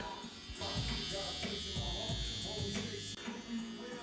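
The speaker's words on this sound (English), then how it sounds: "Now with the FX Babyliss trimmer, I'm just gonna hit the sideburns" An FX Babyliss electric hair trimmer buzzes steadily while cleaning up sideburns, a close, continuous whine with faint voice beneath it.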